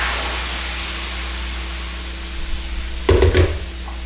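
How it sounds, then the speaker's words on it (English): Poblano cilantro sauce made with spinach, garlic and salt hits a hot skillet, a brief burst of sizzle and spatter over a steady low kitchen hum, then settling back down. "so to a hot skillet goes in your sauce"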